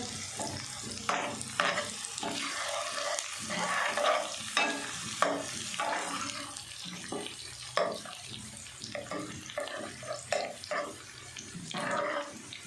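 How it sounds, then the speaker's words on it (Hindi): Onions and green garlic sizzle in a hot pan while a spoon stirs and scrapes now and then, with faint splashes of water nearby. "इसको भी हल्का सा हमने सौते कर लिया"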